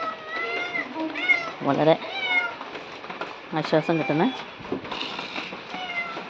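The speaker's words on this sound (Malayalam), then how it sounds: "പൂച്ച ഓടി വന്നിട്ട് എനിക്ക് ഭക്ഷണം കണ്ടോ, ഭക്ഷണം തായോ എന്ന് പറയുന്നുണ്ട്" A hungry cat that has run up to an empty food bowl meows several times in rising, insistent calls, close by, mixed with a person talking.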